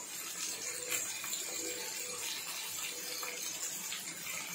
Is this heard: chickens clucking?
no